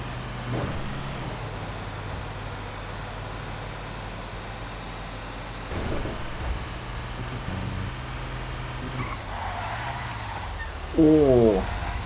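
A GTA V armored bank truck brakes hard, heavy engine rumble steady under the scene with a sharper squeal and hiss of brakes near the end, loud and close.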